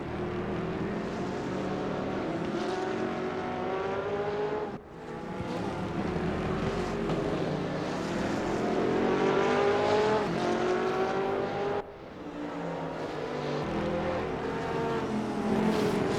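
A Porsche race car engine roars in a multi-class sim racing game at the Nordschleife, holding a loud, sustained, harmonic drone with rising and falling revs and two brief dips as it shifts gears.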